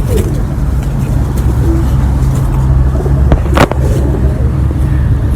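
Flying pigeons at a champion pigeon keeper's loft in Rawalpindi coo softly amid a steady low rumble of traffic, with a brief sharp knock near the end.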